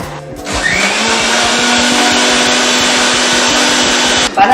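A mixer grinder whirs loudly and steadily, blending banana juice for nearly the whole stretch, starting up at the beginning and cutting off near the end.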